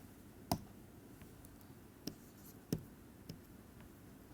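Chalk or pen strokes from writing equations in a physics lecture on spin-0 fields, a handful of distinct sharp taps and scratches spaced irregularly over quiet room tone, no talking.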